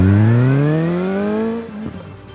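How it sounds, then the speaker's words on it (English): A Suzuki GSR 750 motorcycle engine revs close by, rising sharply in pitch and then easing off and fading over a couple of seconds. "You love the sound of the engine revving up as you hit the open"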